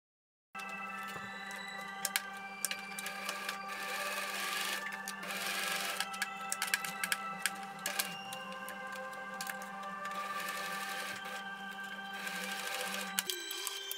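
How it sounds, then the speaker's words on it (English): A sewing machine stitches the back facing onto a sleeveless gathered tiered dress, running in one steady close whir with small clicks for about thirteen seconds before it stops. "I sew the facing on it"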